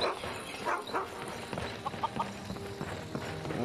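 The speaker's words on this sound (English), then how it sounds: "Hello, chicken!" A chicken in Skyrim VR gives a few short, scattered clucks at moderate distance over a soft background ambience.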